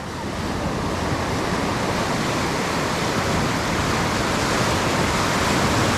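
Ocean waves break on a Fiji shoreline during land-based fishing, a loud continuous wash of surf and rushing water with some wind buffeting, no voices heard.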